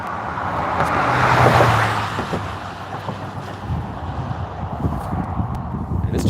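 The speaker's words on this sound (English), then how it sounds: "This traffic is brutal out here." Busy roadside traffic roars past, one vehicle swelling loudly then receding, followed by a steady wash of passing cars and wind buffeting the microphone.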